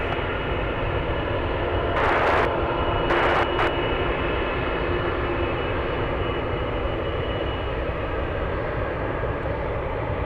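Boeing C-17 military transport aircraft at Anchorage airport, a steady, loud jet-engine roar filling the whole stretch, with a few brief bursts of broadband noise riding on top.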